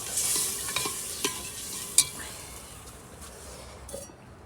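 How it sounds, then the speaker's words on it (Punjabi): Pakoras tipped into sizzling masala in a pan, giving a steady, close frying hiss with a few sharp clinks of utensil on metal, no voices. "ਹੁਣ ਪਾ ਦਨੇ ਆਪਾਂ ਪਕੌੜਿਆਂ ਨੂੰ"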